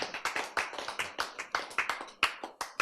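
A small church audience claps together in a quick, loose rhythm, a short burst of close, uneven hand claps with no talking.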